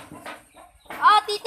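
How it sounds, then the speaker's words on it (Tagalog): Chickens cluck in short, sharp bursts at close range, with a few quiet voices and soft sounds before them. "Yung mga manok"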